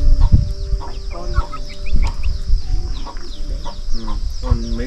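Hens on a farm keep up a busy, scattered clucking at close range, with several birds calling over one another while people talk.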